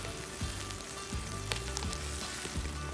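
Polenta-battered flounder laid flat side down in hot olive oil, sizzling steadily and up close, with a few soft low thumps and scrapes from the pan and no talking.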